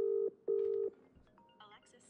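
A phone places a call back with two long, loud electronic tones from a ringback or dialing signal, followed by softer beeps and chimes from the handset app.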